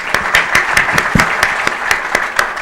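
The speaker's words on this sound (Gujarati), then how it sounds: "એને માટે બી એક તાળી પડે" An audience at Lalubhai's 60th birthday stage event claps for senior actor Arvind Joshi. The applause is steady and close, with distinct claps and no voices.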